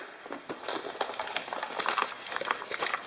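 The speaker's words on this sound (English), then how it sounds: "that's what you're hearing is a rattling bobber" A busy, irregular rattling and clattering from a rattling fishing bobber, like small hard pieces shaking inside a plastic casing, continuing steadily at close range.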